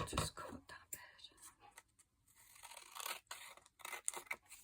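Scissors snip through handmade eco-dyed paper in quick, quiet, close cuts for a notebook, with soft crisp clicks and rustles mixed with faint whispery breathing.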